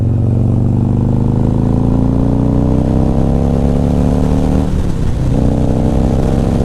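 A motorcycle with an S&S 475c cam, Vance & Hines Power Duals exhaust and Tab Performance louvered baffles revs hard in fourth gear, climbing steadily in pitch, loud and close, with a brief dip near the end as the gear shifts.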